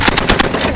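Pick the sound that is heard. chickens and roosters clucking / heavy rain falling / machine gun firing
machine gun firing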